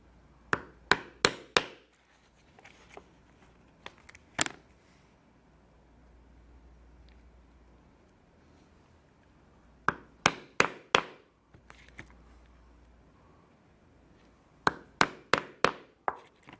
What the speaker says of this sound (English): And we will use this as a guide to punch our holes for the lacing.